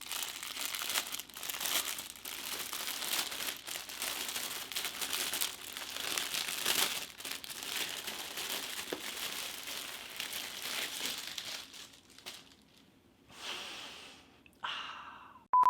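A plastic bag crinkles up close as swim trunks are pulled out of it, with continuous soft rustling and crackling that thins out toward the end, and no talking.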